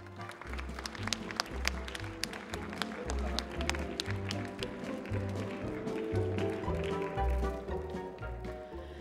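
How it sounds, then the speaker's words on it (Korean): An audience applauds a lecturer taking the stage at a Korean science and creativity concert. Steady clapping fills the whole stretch, with a low musical backing underneath. "큰 박수 부탁드리겠습니다"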